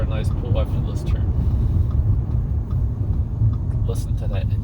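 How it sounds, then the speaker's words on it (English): A 2009 Audi A4 engine runs while driving on a road at night, a steady low rumble blended with road noise throughout. "Listen to that engine purr."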